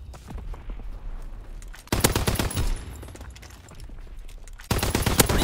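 Bursts of rapid automatic gunfire in the video game Call of Duty WWII: a quieter stretch of distant shots, then a loud close burst, a lull of scattered fire, and another loud close volley at the end.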